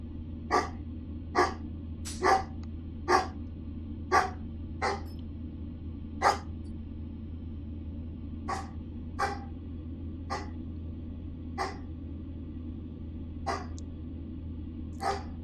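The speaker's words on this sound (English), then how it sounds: "There's our guard dog." A guard dog barks repeatedly outside a house, sharp single barks spaced irregularly over several seconds with pauses between, moderately near and clear over a steady low hum.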